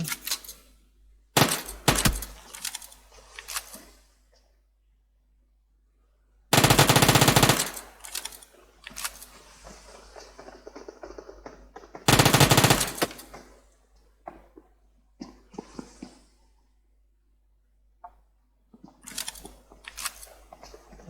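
Machine-gun bursts crack out in PUBG Mobile, several loud rapid volleys separated by quieter stretches of scattered shots and game noise.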